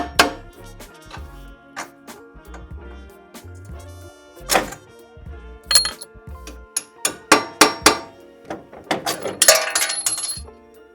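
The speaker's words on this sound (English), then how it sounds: "Go ahead and tap these out with a hammer." Sharp metallic hammer taps ring out repeatedly as strut bolts are knocked out of a GMC 1500 pickup, sparse at first and then quicker and louder near the end, with a few clinks and thunks between strikes.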